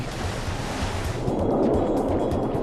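Heavy tsunami ocean water surges and crashes in a loud, continuous roar of turbulent surf with wind-like rushing that swells midway and stays dense.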